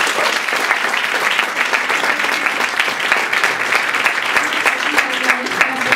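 A full audience at a business development program's final pitch and award event applauds the organizing team, dense continuous clapping that holds steady throughout.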